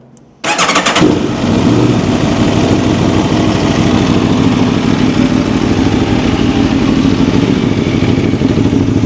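An Aprilia Xtrenta 230 hp motorcycle engine fires up after a brief silence, catching with a loud burst and then settling into a steady, strong idle that runs close and unbroken to the end.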